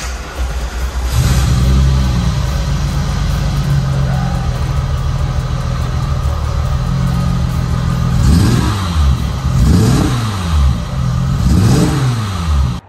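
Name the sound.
VR6 engine starting and revving in a VW MK1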